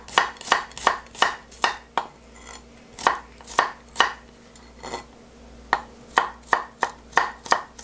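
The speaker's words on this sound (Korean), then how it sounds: "마늘을 좀 굵게 다질 거예요" Garlic being coarsely chopped with a knife on a cutting board: sharp, quick, rhythmic knocks in bursts with short pauses, close and clear, with no talk.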